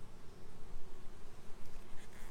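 Honeybees humming around an open hive frame of capped brood, a steady close-up drone of many wings with no voices.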